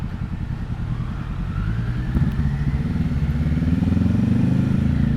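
A 2024 Triumph Street Triple 765 RS being ridden through traffic, a loud, close engine burble with a throbbing low rumble that builds as the throttle opens, plus rushing wind noise, no talking.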